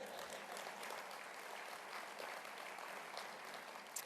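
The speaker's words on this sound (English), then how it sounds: "That's worth a round of applause." Audience applause filling a large hall, a steady wash of clapping from many hands that holds at an even level throughout, with no voices over it.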